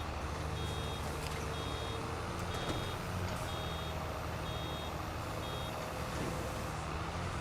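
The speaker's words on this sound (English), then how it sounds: "I've got the game sounds on so I can hear the beeping" A farm vehicle in Farming Simulator 22 sounds its reversing alarm, a steady series of evenly spaced high beeps over a constant engine drone, with no speech.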